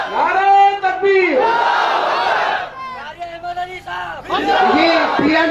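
Large crowd at a religious gathering chanting Allahu Akbar in response to the takbir call, loud massed voices rising and falling in repeated surges across the whole stretch.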